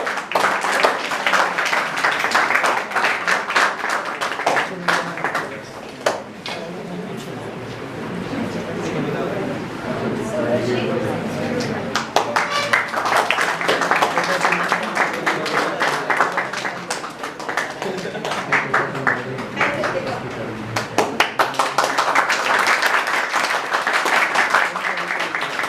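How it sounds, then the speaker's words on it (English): Students applaud at a school eco club seminar, sustained clapping that dips briefly and returns in waves, with chatter and voices mixed in throughout. "Audience, be generous in your applause."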